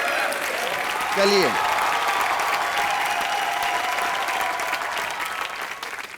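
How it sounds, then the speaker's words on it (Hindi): Loud studio audience applause on a live comedy show, sustained and even throughout, with a brief spoken word from a voice near the start. "रामू सर के लिए जोरदार तालियां"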